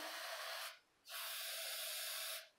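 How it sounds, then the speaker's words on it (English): Two long hissing bursts from a spray bottle spraying liquid onto a stick for resin pour art, separated by a brief pause, close and steady. "Spray it on the stick and wipe it across."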